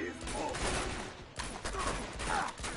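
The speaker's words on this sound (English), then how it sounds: "Just a few gunshots to the head" A rapid burst of gunfire in Uncharted 2: Among Thieves crackles repeatedly, loud and close, with sharp cracks over a dense, busy backdrop.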